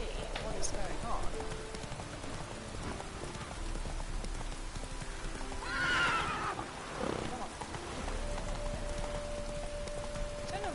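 Roach the horse in The Witcher 3 gives a neigh midway while hooves trot along amid rain-like ambience, with someone talking over much of it.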